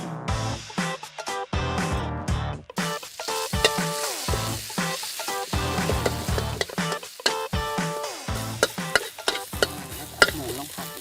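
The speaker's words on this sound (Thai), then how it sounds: "ทีนี้เราจะผัด หมูกับพริกแกงก่อน" Pork and curry paste stir-fried in a little oil for a Northern Thai yam of phak hiad, with steady sizzling and repeated scraping, clanking stirs throughout, loud and close with no talk.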